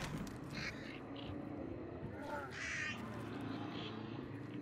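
Crows caw in a video game, several harsh calls scattered over a faint rumbling background, fairly quiet and somewhat distant.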